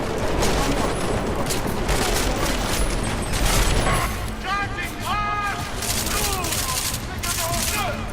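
Dense, continuous gunfire from a firefight in the video game Deus Ex Mankind Divided, a loud rapid volley that rattles on for about four seconds before thinning, with voices talking over the noisy battle.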